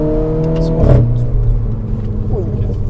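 A flat-six engine in a compact Formula 1-inspired sports car revs and pulls hard, the exhaust note rising in pitch with a brief louder surge before settling, as people talk over it inside the car.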